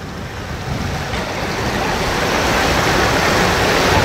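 A tiny RC jet boat running on creek water, heard as a loud, steady, broadband rushing of water and motor noise that builds slightly over a few seconds, with no talk.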